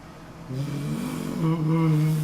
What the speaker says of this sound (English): Can you hear the fucking truck outside?